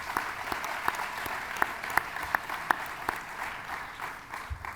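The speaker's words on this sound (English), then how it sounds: "she deserves a very, soundest round of applause" Audience applause at the South Summit arena stage, a steady crowd clapping with a few sharper individual claps standing out near the microphone, continuing for several seconds and tapering slightly.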